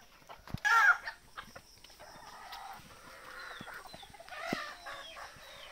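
Free-range desi chickens on a farm, hens clucking and a brief louder squawk near the start, with scattered bird calls and soft background farm noise.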